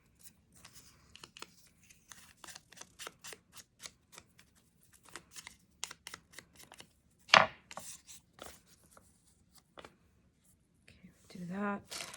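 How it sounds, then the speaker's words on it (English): Paper is cut at the corner of a journal page with a run of short, crisp snips and rustles, close and quiet. A louder crinkle of paper comes in the middle, and handling noise builds at the end. "Snip this corner."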